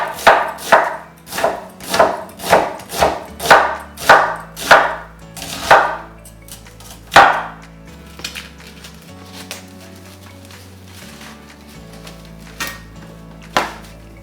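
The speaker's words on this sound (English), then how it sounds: "cut up your onions and your beef short ribs" A knife chops onions and beef short ribs on a cutting board in a home kitchen, a quick run of evenly spaced loud thuds, then slower scattered chops and faint kitchen clatter.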